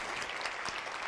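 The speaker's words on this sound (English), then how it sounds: "applause to you all." Conference keynote audience applauding, a steady dense wash of many hands clapping at moderate level throughout, with no speech over it.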